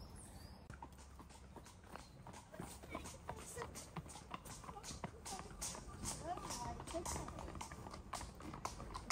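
Horse hooves clip-clop along a path at Lyme Park in the UK, a steady run of close, sharp knocks through the whole clip, with people talking over them.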